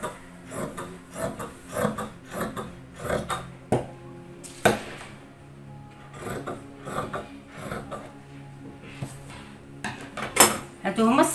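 Scissors cutting through qandoura fabric, a series of close, crisp rasping snips in irregular bursts with pauses between, accompanied by faint handling rustles and quiet background.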